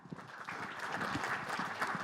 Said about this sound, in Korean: 따뜻한 박수로 맞이해 주시기 바랍니다.